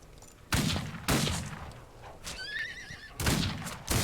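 A horse whinnies in the Wild West video game Outlaws of the Old West, a clear wavering neigh heard between loud bursts of gunfire during a shootout.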